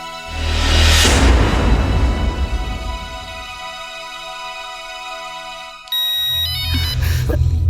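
A mobile phone rings in a Hindi-dubbed romance film, a bright electronic melody of repeating high notes that starts over swelling background music and cuts through loud and close.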